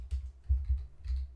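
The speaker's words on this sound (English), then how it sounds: "let's type in console.log," Keys tapped on a computer keyboard while entering JavaScript code, a handful of soft, muffled clicks in an uneven rhythm over a low rumble.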